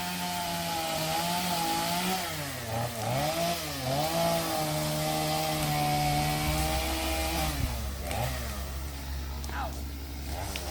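A chainsaw cuts down a tree during a mobile home teardown, its engine droning loudly and steadily close by, with brief pitch dips and surges as it revs through the wood for the whole stretch.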